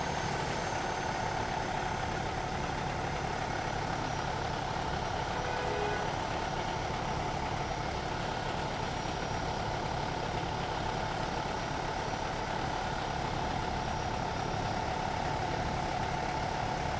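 A city bus idles in traffic on Shepherd Avenue in Toronto with its door open, giving a steady low engine rumble with a constant broadband hum throughout and no voices.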